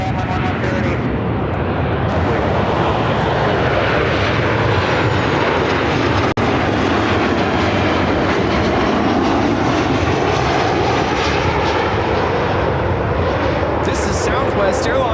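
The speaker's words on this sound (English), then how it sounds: "Southwest Airlines 4173 coming in from Dallas Love Field on the 737-800" A Southwest Airlines Boeing 737-800 jet, arriving at Chicago O'Hare from Dallas Love Field, gives a sustained loud engine roar that swells and holds across the whole stretch, with voices talking underneath.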